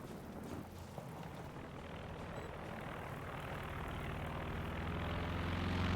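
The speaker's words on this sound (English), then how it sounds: "The aircraft does get shot down" A propeller aircraft drones overhead in the World War II strategy game Company of Heroes 2, a steady engine rumble that swells louder and nearer across the six seconds, with no talking.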